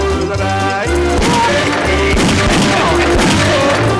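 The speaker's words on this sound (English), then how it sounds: "Now pair it with gunshots and chicken squeals." Gunfire and squawking chickens from the Wii shooting game Chicken Shoot, dense bursts of shots and squeals layered over looping game music, loud and busy throughout.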